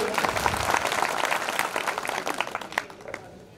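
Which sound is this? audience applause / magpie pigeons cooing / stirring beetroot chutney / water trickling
audience applause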